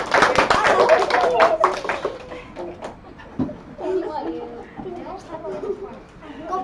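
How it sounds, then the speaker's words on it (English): Schoolchildren clapping together in a classroom, a quick burst of bright claps for about two seconds, then mixed children's voices and chatter continuing afterward. "Go claps."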